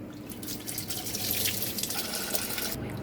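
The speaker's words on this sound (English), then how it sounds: "the oil has drained from the vat into our filtration system" Cooking oil drains from a fryer vat through an opened drain valve into a TurboQuip filtration unit, making a continuous rushing, trickling liquid flow that is close and steady and stops abruptly near the end.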